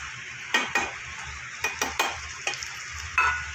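Fried potatoes are tipped into sizzling masala in a pan and stirred, with a low constant sizzle punctuated by several sharp spoon scrapes and knocks against the pan, close and clear.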